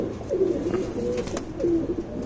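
Surmai pigeons, a male and female pair, cooing close by in soft repeated throaty phrases, three or four rolling coos over low background noise.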